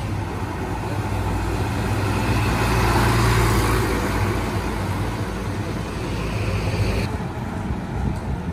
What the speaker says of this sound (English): Cement truck.